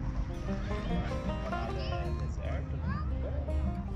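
A pony in the horse area of a city park lets out a wavering, repeated neigh at moderate distance over steady outdoor background noise.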